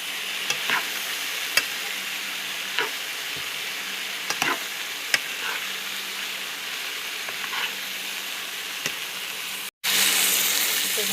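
Cabbage stir-frying in a pan for chopsuey, a steady sizzle broken by repeated sharp scrapes and clanks of stirring, close and unaccompanied by talk, cutting off briefly near the end before the hiss returns louder.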